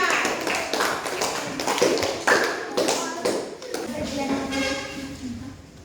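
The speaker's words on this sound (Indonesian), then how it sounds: "Aplaus untuk kelompok 2" Audience clapping for a presenting student group in a classroom, a steady patter of many hands that swells and fades over several seconds, with some voices mixed in.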